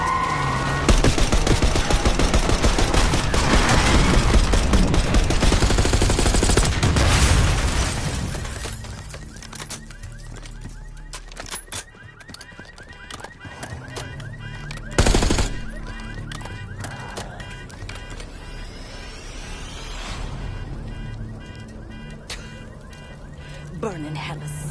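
Bursts of gunfire from a Black Ops 6 campaign mission on a city street as a limo approaches, loud and dense for the first several seconds, then sparser scattered shots and impacts with voices talking over them.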